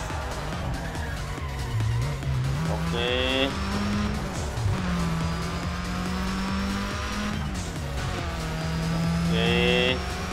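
Racing car in Need For Speed ProStreet braking hard with tire squeal, engine tone dropping then climbing again through repeated shifts, loud and continuous, with someone speaking briefly over it.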